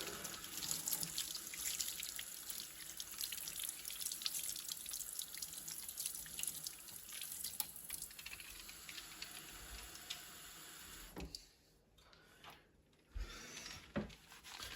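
Tap water runs steadily into a sink while a dirty John Deere flat car part is rinsed, a continuous close splashing stream that briefly cuts out and changes near the end.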